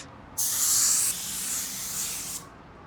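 A spray gun lays down a coat of clear in a continuous close hiss lasting about two seconds, loudest at the start and then easing slightly before cutting off.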